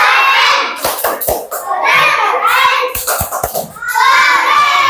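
A classroom of children chants together and claps in short rhythmic bursts, with lively young voices dominating between the claps.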